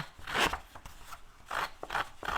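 Scissors snip through paper while cutting a scrapbooking corner embellishment, several separate close crisp cuts in an irregular rhythm, each a short bright rasp, with quiet gaps between them and no talk.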